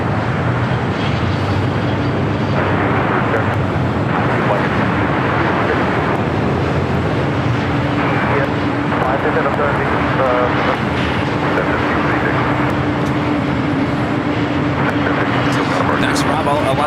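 A Porter Embraer E2 airliner taxiing at LAX airport, heard as a loud, continuous jet engine rumble and whine that holds steady throughout under ongoing talk.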